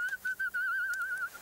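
A man whistles a tune: clear, close, melodic whistling in several short phrases that flow into a longer warbling line, alone and without talk.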